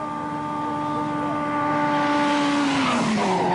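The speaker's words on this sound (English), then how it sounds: "the Nissan 240 RSs look extremely twitchy at high speed on the asphalt" Nissan 240 RS rally cars at the 1985 Acropolis Rally run flat out in top gear on asphalt, engine note a steady high drone that swells and shifts pitch as a car passes close.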